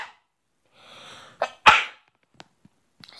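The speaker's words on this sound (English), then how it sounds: "I got a little sneeze there" A single sharp sneeze bursts out while a Piggy horror game plays, preceded by a short intake of breath and followed by a few faint clicks.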